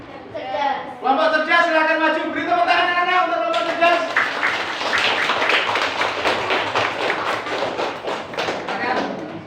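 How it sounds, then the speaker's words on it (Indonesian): Children in a classroom clap for a student group, their brisk, scattered clapping starting after a few seconds of talk and continuing close and fairly loud until the end. "Beri tepuk tangan anak-anak untuk kelompok cerdas"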